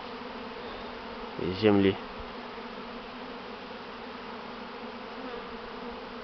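Continuous buzzing of bees sitting on grass fills the background at a steady low level, with a brief spoken phrase partway through.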